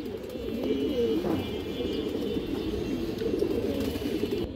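Large pigeons cooing close by, a continuous run of low overlapping coos and throaty burbles throughout, loud and near, with no talk.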